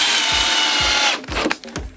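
Power drill driving screws into a glued and nailed wooden subwoofer box, loud steady whirring motor, then a few short bursts as the screw seats, with soft knocks at a regular pace underneath.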